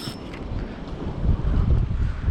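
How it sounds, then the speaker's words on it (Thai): Strong wind buffets the microphone on a seaside fishing pier at Hua Hin. The rumbling gusts are steady and grow louder toward the end, and no one speaks. "วันนี้มีลมนะฮะ"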